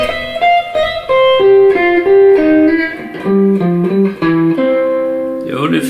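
A second melodic jazzy blues guitar lick, clean single-note phrases stepping down and resolving differently, played close and alone for a few seconds.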